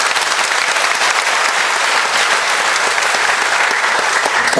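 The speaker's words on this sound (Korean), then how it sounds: "박수 부탁드리겠습니다." An indoor audience at a book concert claps in loud, dense, sustained applause, a steady wash of many hands without a break.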